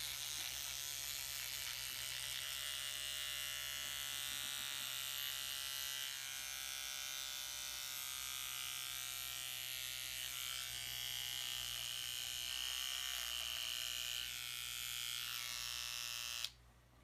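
An electric shaver buzzes continuously at close range for a long stretch, its pitch slowly sagging as the battery runs down, before cutting out abruptly at the end.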